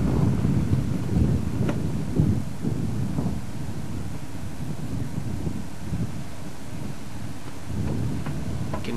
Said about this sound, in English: we're sort of facing almost into the wind there now